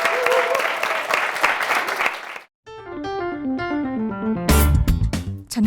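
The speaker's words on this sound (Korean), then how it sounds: "박수로 모셔보겠습니다." An audience applauds to welcome actress Jung Na-on and her husband onto a Korean broadcast stage, brisk clapping for about two seconds before it cuts out and bright music with a melodic line takes over.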